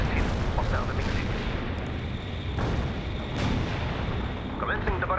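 Artillery barrage in the World in Conflict video game: a continuous rumbling roar of shelling with scattered booms, under a voice speaking in the background.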